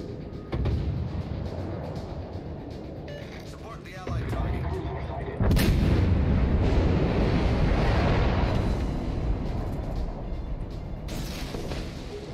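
Heavy naval guns of the Graf Spee battle cruiser boom in World of Warships, deep rumbling blasts swelling into long roaring rolls of sea-battle noise, loud and continuous with a sharp burst near the end, with talking over it.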